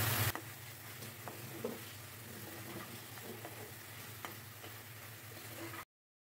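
Pieces of hilsa fish head frying in a spice masala in a pan, a steady low sizzle running throughout with faint scattered ticks and stirring clicks, no voices.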